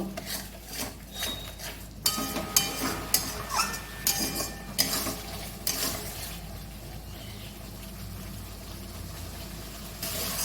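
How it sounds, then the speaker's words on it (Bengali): Fish curry being stir-fried in a pan over high gas, with steady sizzling and a run of clinking spatula scrapes against the pan in the first half. "গ্যাসটা জোরে করে দিলাম, এবার ভালো করে কষিয়ে নেব।"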